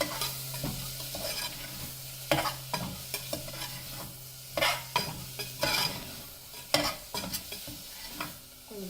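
Onion fried for sambar with red masala and salt, stirred with a spoon over a constant hiss, the utensil scraping and knocking against the pan in repeated close, uneven strokes with no talk.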